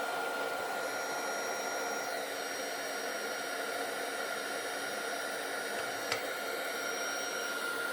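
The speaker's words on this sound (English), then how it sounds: "I'm just going to bring the heat gun in now and I'm going to heat emboss the" A heat gun hisses continuously while heat embossing stamped ink on a handmade card, a steady airy blowing noise held close for the whole stretch with one tiny click partway through.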